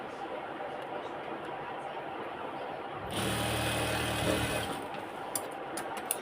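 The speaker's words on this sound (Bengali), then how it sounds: "এটা পকেটের নিচে সেলাই করতেছি" A sewing machine stitches beneath the pocket of a pair of ladies' trousers. Low room noise fills the first three seconds, then a louder, close motor run lasts about two seconds, followed by a few faint clicks.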